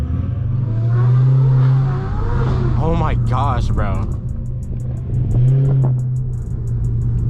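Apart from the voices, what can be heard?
turbocharged sports car engine revving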